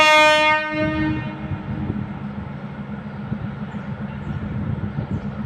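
A tourist train's horn blares at the start, then the train rumbles past steadily with a rolling, rattling low roar.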